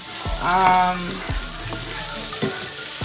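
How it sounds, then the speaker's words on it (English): Sausage browns in a pan for jambalaya, with a close, steady frying sizzle and several dull knocks and scrapes as the pieces are moved around. "I'm gonna dump my jar of sausages in, and I'm going to just brown my sausage"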